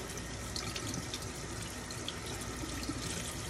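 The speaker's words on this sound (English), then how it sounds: "We are now rinsing the hearts of palm pasta," Tap water runs steadily over canned hearts of palm pasta being rinsed at a kitchen sink, a constant splashing rush with small drips and no voices.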